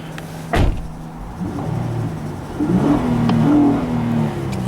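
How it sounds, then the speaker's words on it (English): Heard from inside the cabin, a 2012 Honda Pilot EX-L engine revs up twice, a low hum rising and falling in pitch, with a brief click before the first rev. "We'll give the engine a couple of revs from the inside"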